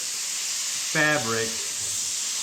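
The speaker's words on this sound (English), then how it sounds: "So I'm just going to go ahead and spray this." Marblizer paint sprays from a can in a steady, loud broadband hiss throughout, while a voice speaks briefly over it in the middle.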